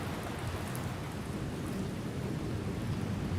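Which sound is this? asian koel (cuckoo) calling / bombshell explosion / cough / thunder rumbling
thunder rumbling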